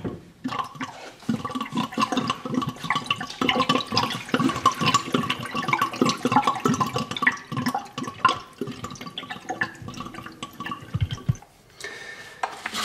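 Water draining from a used AquaMat water filter laid in a kitchen sink, a continuous splashing, trickling flow that runs steadily and close by for most of the time, then briefly thins near the end.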